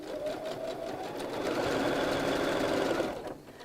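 Sewing machine stitching strips of woven fabric together for a cushion cover, a steady close mechanical whirr that builds slightly, runs continuously and stops near the end.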